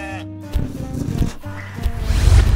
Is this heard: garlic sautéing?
no